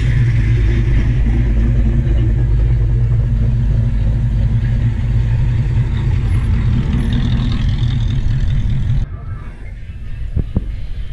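A Pontiac GTO Judge's engine rumbles loud and close with a deep, throbbing idle, then cuts off abruptly near the end, leaving quieter background noise and a few faint knocks.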